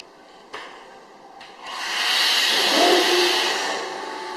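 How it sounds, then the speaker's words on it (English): Vacuum is released on a toothpaste emulsifying mixer: after a couple of faint knocks, a steady broad hiss of rushing air swells up and holds, loud and close, with no talking. "So for example, now I release some vacuum."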